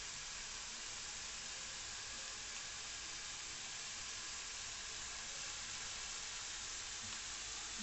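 Onion and tomato frying in oil in a pan with a little salt, a faint steady sizzle and hiss running evenly throughout, quiet and uninterrupted with no voices.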